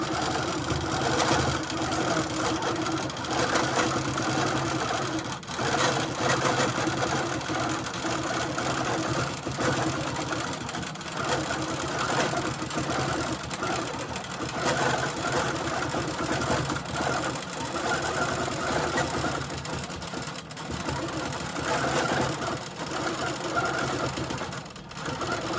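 Sewing machine running steadily while quilting the final roll of a log cabin quilt, a continuous mechanical whir with engine-like hum and rapid needle ticking that holds at an even loudness throughout, with no talking.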